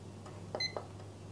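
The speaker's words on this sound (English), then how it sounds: "I'm just setting my timer here" A timer being set gives a couple of short electronic beeps, close and quiet, with a faint click just before them and no talking.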